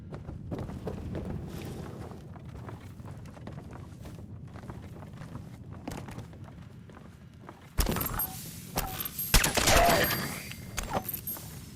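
Gunfire in Fallout 4 plays as several bursts of loud shots in the later part, preceded by quieter ambient rumble and movement sounds.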